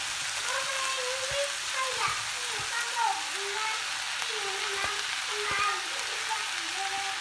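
Instant noodles stir-fried over high heat in a Thai holy basil dish, a steady close sizzle and hiss with soft scraping and stirring, a voice talking over it.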